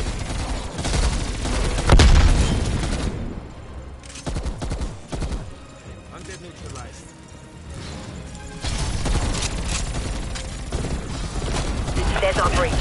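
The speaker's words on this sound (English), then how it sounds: "Throwing grenade." A grenade thrown amid heavy gunfire in Cold War Zombies: dense bursts of rapid shots with a sharp, loud blast standing out early, then continued firing and rumble, with voices mixed in.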